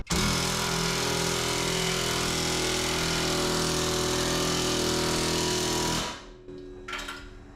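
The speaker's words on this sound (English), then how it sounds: "Just tightening up these shackle bolts." Bolting up the rear leaf-spring shackles on a 1987 Dodge D100 pickup, a loud, steady power-tool whir runs close and continuous for about six seconds, then cuts off into quieter shop sounds.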